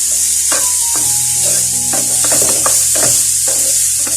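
Chopped onions hit a hot pan for a Kerala-style cheera thoran, giving a steady loud sizzle with scraping stir strokes and a faint hum underneath, no voices.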